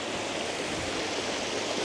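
Whitewater rushes in a shallow river, a steady, broad wash of churning water close by, filling the whole stretch at an even level with no voices.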